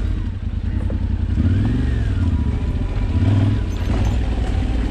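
A 4x4 vehicle engine rumbles past at close range, swelling and fading over a few seconds with steady low drone.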